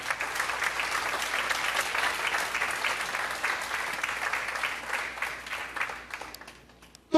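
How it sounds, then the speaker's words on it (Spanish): Church congregation applauding during a Spanish-language sermon, a dense, steady wash of clapping that holds for about six seconds before thinning out and stopping. "Voy a aplaudirle al Señor."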